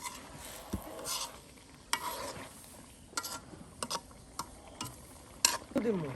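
Rohu fish curry with boiled potato and chopped eggplant is stir-fried in spices, soft sizzling under repeated scrapes and knocks of a spatula against the pot, quiet and close with irregular rhythm.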